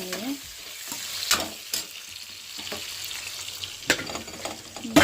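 Ivy gourd frying in a pan on a home kitchen stove: a steady soft sizzle punctuated by several sharp spatula scrapes and stirs, close and moderately loud.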